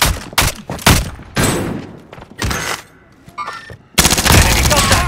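Gunfire in Warzone Rebirth, a video game: loud bursts of automatic shots and heavy thuds come in separate clusters, with a long rapid volley at the end and brief game voice callouts in between.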